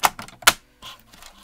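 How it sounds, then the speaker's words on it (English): Sharp mechanical clacks and scoring bursts from an electronic cutting machine scoring card, a few quick strikes followed by a softer grinding pass, close and fairly loud. "It's scoring it, it's just not wanting to cut through that last little"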